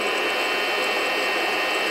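A FreshRoast SR700 home coffee roaster running on high heat makes a loud, constant rushing roar of hot air with no breaks, close by, and no voices.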